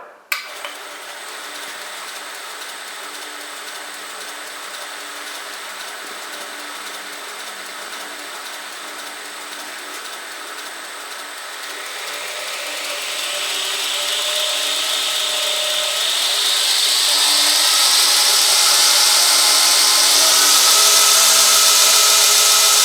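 A Northridge tool grinder motor starts with a click and runs at its slowest setting with a steady hum, its whine gradually rising and growing louder, close by and alone.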